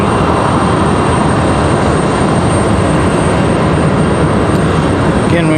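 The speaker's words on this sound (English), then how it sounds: "while we check out United's pushback here" A United airliner being pushed back at Raleigh-Durham International Airport fills the air with a continuous engine rumble and hiss, fairly loud and steady throughout, with no speech.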